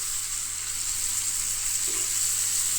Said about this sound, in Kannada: ಮೀಡಿಯಂ ಫ್ಲೇಮಲ್ಲಿ ಇಟ್ಕೊಂಡು ರೋಸ್ಟ್ ಮಾಡ್ಕೊಳ್ಳಿ ಲೈಟಾಗಿ